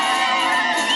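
Crowd at a Kenyan general election event ululating with vigelegele, a loud dense chorus of high trilling voices and cheers sustained without a break.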